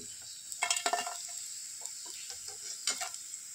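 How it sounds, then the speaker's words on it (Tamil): Kanji vathal rice crisps fry in oil in a pan, a steady faint sizzle with a few brief stirring clatters over it, alone. "அடுத்தது கொஞ்சம் கஞ்சி வத்தல் வறுத்து எடுத்துக்கலாம்"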